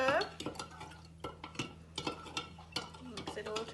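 A spoon stirring homemade lemonade in a jug, giving repeated clinks and scraping knocks against the sides in a quick irregular rhythm, close and moderately loud, with a faint hum underneath.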